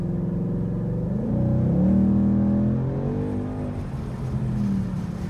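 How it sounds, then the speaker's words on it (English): A 2018 Ford Mustang GT V8 with active exhaust revs up and back down, a close, deep rising and falling growl that swells mid-way then settles to a lower rumble. "And the active exhaust in this car sounded amazing, honestly."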